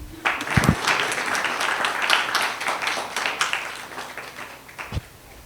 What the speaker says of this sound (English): You can be clapping hands for us